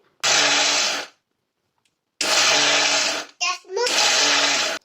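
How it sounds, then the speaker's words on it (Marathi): A mixer grinder whirs loudly in three short pulses, grinding dry fruits to powder, separated by silences, with a brief rattling burst just before the last run. "मिक्सर चालू बंद चालू बंद करत पल्समध्ये ही जी पावडर आहे ही बारीक करायची आहे"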